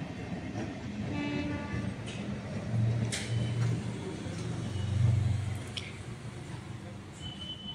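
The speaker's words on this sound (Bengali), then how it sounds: "বাঁকুড়া মশাগ্রাম যে মেমু ট্রেনটা সে ট্রেনটা এখন ঢুকছে।" A Bankura–Masagram MEMU train rolls into Masagram junction with a steady rumble and wheel clatter, sounding several horn blasts and squealing metallic notes while moving nearby.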